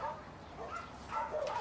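A caged dog yelps and barks in short, high, strained bursts, fairly faint and close, with a voice-like murmur underneath.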